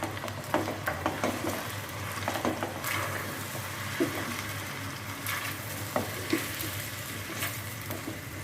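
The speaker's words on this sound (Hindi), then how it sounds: "लहसुन अदरक डाल के मैंने ये भून लिया" Chicken pieces frying in oil with about two tablespoons of garlic and ginger for a white chicken biryani, a steady sizzle with occasional stirring clinks and scrapes from the pot throughout.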